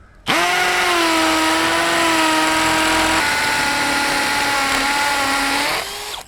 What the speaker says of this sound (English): let us try to drill into the brick wall